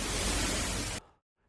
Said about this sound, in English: Let's take pink noise